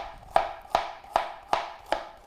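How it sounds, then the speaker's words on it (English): Knife chopping carrots on a cutting board while preparing honey mustard chicken, five crisp evenly spaced chops, close and alone. "And I am just chopping up some carrots."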